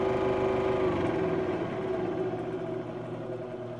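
A 16-inch scroll saw runs steadily, its motor hum and blade chatter loud and close, the pitch sliding down and the rattle slowing as the speed control is turned.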